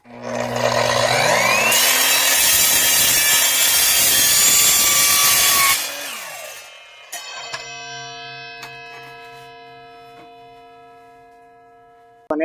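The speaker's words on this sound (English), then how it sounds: "We're about to cut some strut here" An Evolution track saw rips through 1 5/8 inch metal strut with a loud, sustained screaming cut lasting several seconds, then the blade spins down with a ringing metallic hum and a few clanks as the cut piece settles.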